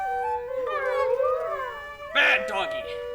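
A theatre stage production plays a howling sound effect for the three-headed dog Cerberus, a wavering, rising and falling howl close and clear, followed by a brighter yelping burst near the end.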